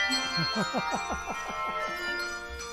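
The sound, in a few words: hand bells being rung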